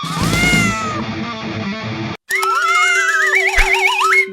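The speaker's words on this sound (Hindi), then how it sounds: "अब मैं इस बिल्ली को नहीं छोड़ने वाला।" A cartoon cat meows loudly in a Diwali desi comedy scene: one long, wavering yowl, a brief silent break, then a second drawn-out, warbling meow over a steady tone, all close and up front.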